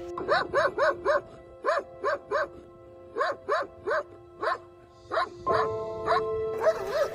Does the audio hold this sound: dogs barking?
yes